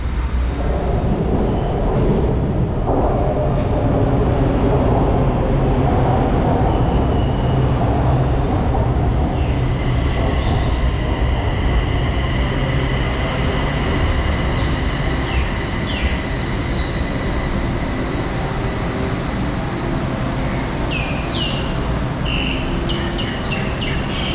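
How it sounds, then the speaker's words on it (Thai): A BTS Skytrain in Bangkok rides from Bearing to Bang Na station, with continuous loud carriage rumble and rolling wheel noise, and thin wheel squeals rising toward the end. "จากแบริ่งไปบางนาเราก็ เดินทางแค่สถานีเดียวเท่านั้นครับ"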